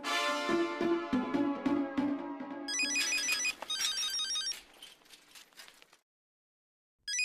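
A phone ringtone plays over music, its electronic trill repeating in bursts before fading into silence.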